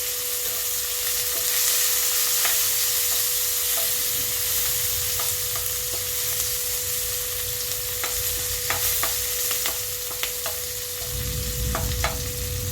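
Chilli and garlic frying in a pan, a steady close sizzle with occasional stirring clicks and scrapes, running alone without talk.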